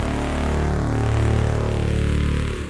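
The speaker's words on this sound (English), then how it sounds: "Do you want Reese bass that sounds like this?" A thick, growling Reese bass synth made in Ableton Operator drones with a wide, detuned wobble, steady and loud, fading at the very end.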